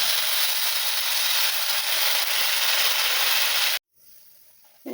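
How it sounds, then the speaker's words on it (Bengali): A loud, steady steaming hiss fills most of the clip as water is poured into frying spice paste in a hot pan, then cuts off abruptly into quiet. "এরপরে আমি পানি দিয়ে দেবো।"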